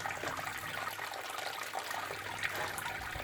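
Wort trickles and splashes steadily during vorlauf recirculation in a home brewing mash setup, a continuous close liquid pour with no speech.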